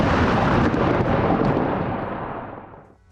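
A loud, rumbling blast from a Hezbollah attack on IDF positions, a broad booming roar that holds for a couple of seconds and then slowly fades away, with no voices.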